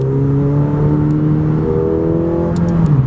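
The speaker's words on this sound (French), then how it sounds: "voici déjà à bord de cette McLaren 720S. Commençons avec le bruit." A McLaren 720S Spider engine hums steadily at idle from inside the cabin, a low continuous drone with slight rises in pitch near the end.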